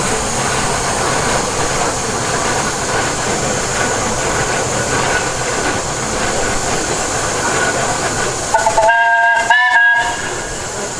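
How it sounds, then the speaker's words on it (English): A steam engine at a vintage vehicle show gives a loud, close whistle near the end, two short piercing blasts after a long stretch of steady rumbling and crowd noise. "Oh yeah, they love their whistles,"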